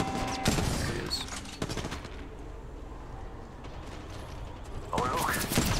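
Rapid gunfire crackles in Apex Legends Mobile, bursts of automatic shots and mechanical clicks at the start, a quieter pause, then another volley near the end, with voices speaking over the action.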